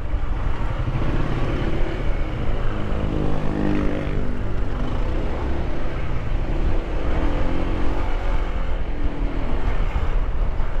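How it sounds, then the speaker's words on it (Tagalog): A Honda ADV160 scooter creeps through heavy traffic on the road from Manila to La Union, its engine droning steadily up close among the rumble of surrounding vehicles, with occasional revs and no talking. "Ang haba ng traffic."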